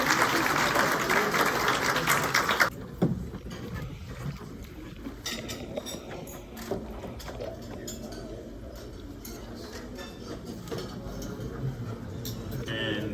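An awards gala audience applauds the consul general as he is called to the stage, with dense clapping for the first few seconds that drops off into quieter room noise, clinking dishes and murmuring.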